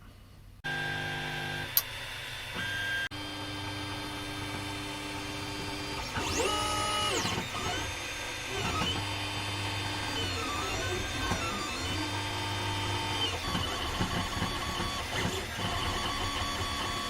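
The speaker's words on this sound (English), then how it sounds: "I'm going to print it out on my Ender 3" An Ender 3 3D printer runs a print job, its stepper motors whining and warbling in shifting tones with steady fan hum underneath, close and continuous throughout.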